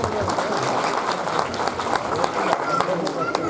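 A crowd applauds at a paragliding closing ceremony in Khajjiar, with steady dense clapping throughout and someone speaking loudly over it.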